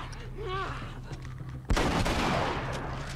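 Gunfire in a modded The Last of Us game: a loud sudden shot breaks a quieter stretch partway through, followed by continued close, rattling fire.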